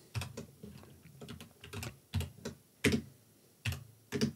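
Keys clatter on a computer keyboard during code writing, bursts of quick taps separated by brief pauses, close and clear with no talking.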